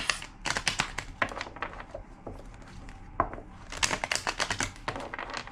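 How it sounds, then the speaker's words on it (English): A tarot card deck shuffled by hand in quick riffling bursts, the crisp papery flutter repeating several times with short pauses between, close and clear, with no talking. "Two more shuffles."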